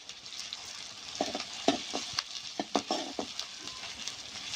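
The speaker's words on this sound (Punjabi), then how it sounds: "ਲਾਲ ਪਿਆਜ਼ ਆਪਾਂ ਭੁੰਨ ਲੈਣੇ ਚੰਗੀ ਤਰੀਕੇ ਦੇ ਨਾਲ" Chopped onions frying with cumin seeds in a pan, a steady close sizzle broken by irregular scraping stir clicks, with no talking.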